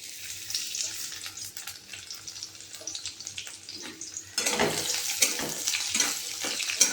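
Sliced onion with whole garam masala and bay leaves fries in hot oil, a soft bubbling hiss that jumps to a louder, crackling sizzle about halfway through and stays steady.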